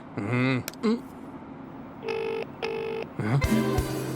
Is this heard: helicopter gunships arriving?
no